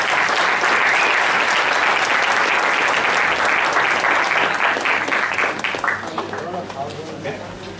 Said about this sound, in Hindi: तो जोरदार ताली बजाएं।